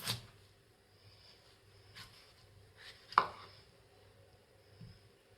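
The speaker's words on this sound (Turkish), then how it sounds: "Şeftalileri de ince ince doğramayı düşünüyorum." A knife chops peaches on a board for an Eton mess dessert, giving a few soft, sparse cuts with one sharper, louder knock in a quiet kitchen.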